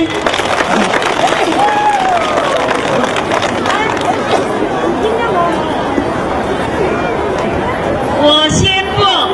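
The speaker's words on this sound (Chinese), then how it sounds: "掌声有请" A crowd applauds and chatters at a ceremony of the 2010 Miao flower tree festival in Guanling, Guizhou. Clapping and loud crowd noise fill the whole stretch.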